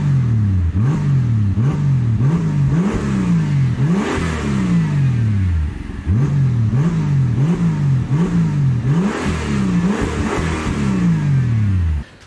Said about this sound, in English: Now I will start the car and you will listen for yourself.